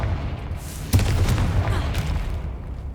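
A Confringo spell blast goes off in the Hogwarts Legacy video game, a single sudden booming burst followed by a rumbling, crackling tail that fades out over a couple of seconds.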